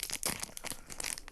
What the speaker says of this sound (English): I haven't got any scissors here, but I'll have to open it like this.